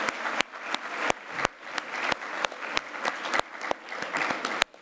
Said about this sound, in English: Can I get another round of applause for this amazing panel?